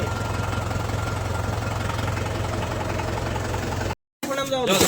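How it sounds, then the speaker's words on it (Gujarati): A tractor engine rumbles steadily and loudly while the tractor is stuck in a river, then cuts out briefly, and a voice follows at the end. "રમેશલાલે ટ્રેક્ટર ફસાવી દીધું છે"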